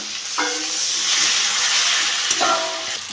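Water poured onto frying masala for a fish jhal hits the hot oil in a loud, steady sizzle and hiss, with two sharper bursts of spattering as more liquid goes in.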